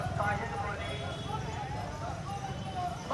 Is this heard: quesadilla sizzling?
no